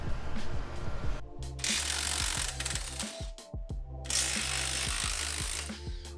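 A ratchet wrench loosens the two 18mm caliper bolts on a Mercedes-Benz during a brake job, giving rapid close clicking bursts split by short pauses and sharp metallic knocks.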